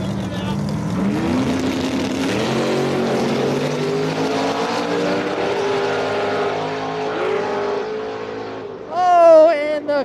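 Drag race cars, including a Camaro, run side by side down the strip at an outlaw event, a loud sustained engine roar with shifting harmonic tones over several seconds, ending in a brief rising whine near the close.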